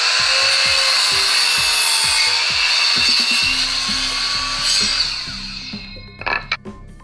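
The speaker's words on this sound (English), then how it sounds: "I'll start building this bar stool by cutting a 2x10," A saw cuts through a 2x10 board with a loud, steady high-pitched whine while rhythmic low strokes repeat underneath; the cut winds down toward the end, followed by a few sharp knocks as the piece comes free.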